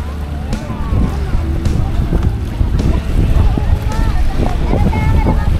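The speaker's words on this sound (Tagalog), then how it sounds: "Oy, medyo malakas ang hangin ngayon dito." Strong gusty wind at Manila Bay's Dolomite Beach buffets the microphone with a heavy, roaring rumble, while people talk nearby and water sloshes in the background.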